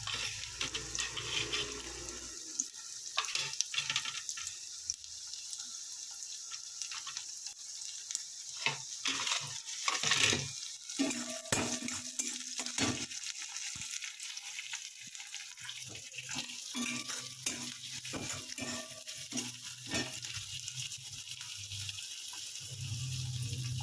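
Chopped onion and green chillies frying in a pan for a fish dish give a watery, bubbling sizzle with frequent scrapes and knocks from stirring, fairly quiet and close.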